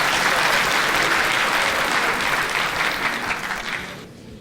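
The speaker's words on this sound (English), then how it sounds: "Another big round of applause, ladies and gentlemen, for Minister Sisulu." An audience at a public event applauds after a minister's address, giving a dense, steady round of clapping that fills the room and fades out at the end.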